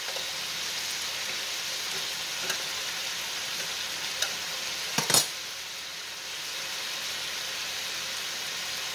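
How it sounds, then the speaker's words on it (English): Steady crackling sizzle of food frying in a pan, with a few sharp pops and a brief clatter near the middle. "I'm going to finish frying this up"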